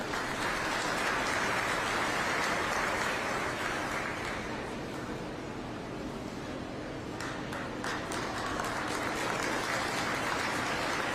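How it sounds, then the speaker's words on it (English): A crowd applauds steadily at a youth fair beef show. The sound is a dense, even wash of clapping that fills the whole stretch, rain-like in texture, with no voices standing out. "let's give these exhibitors a big round of applause."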